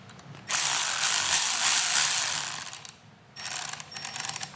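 Ratchet snugging a T25 bolt on the handlebars of a 2008-2013 Harley-Davidson Street Glide during a handlebar install, heard as a loud, steady clicking burst for about two and a half seconds, then a brief pause and a shorter, choppier run of clicks.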